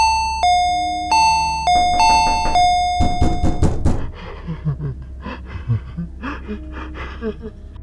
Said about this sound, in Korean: 밖에서 문을 쾅쾅쾅쾅 하고 두드리고는 초인종을 미친 듯이 눌러대기 시작했습니다